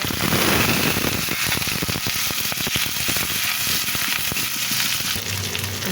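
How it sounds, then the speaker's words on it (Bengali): Dried chillies sizzle lightly in hot oil in a pan, a steady loud crackling fry with dense popping spatters throughout. "কালো জিরি ভর্তা করার জন্য শুকনো মরিচ একটু ভেজে নেবো হালকা করে"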